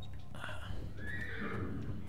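Horse in the video game Secret Files 3, spooked by nearby fighting, gives one loud, close whinny that rises and trails off over about two seconds.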